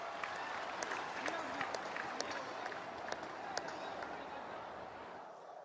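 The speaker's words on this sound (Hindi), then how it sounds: "हो जाए ताली आज आपके नाम पर।" An audience at a political address claps in a sustained, fairly soft round of applause, with a speaker's voice running over the clapping.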